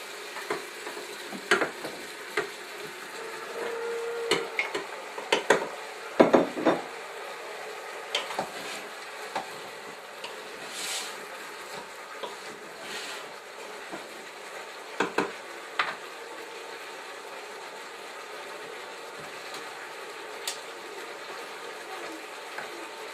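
Beef browning in a Crockpot Express pressure cooker pot as garlic and tomato paste are added, a soft steady sizzle with scattered clinks and scrapes of a utensil against the pot, close and fairly quiet.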